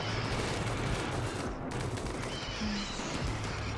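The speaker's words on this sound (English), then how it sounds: "Still have turrets shooting" Turrets fire in the colony game Rimworld, producing a dense, continuous barrage of rapid gunshots that crackles without pause throughout.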